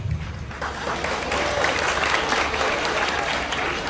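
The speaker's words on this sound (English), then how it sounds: "So sometimes our students can clap without any prompt." Students at a school morning assembly break into loud, sustained clapping that rises and holds steady across a large group, with a low rumble beneath at the start.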